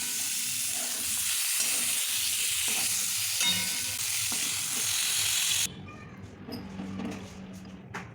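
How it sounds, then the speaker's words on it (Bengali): Pieces of pointed gourd (potol) frying in oil, with a steady close sizzle broken by stirring clatter that ends abruptly near the end, leaving quieter intermittent frying and stirring. "পটলের গায়ে লালচে রং ধরা অবস্থা পর্যন্ত পটলগুলোকে ভেজে নেব।"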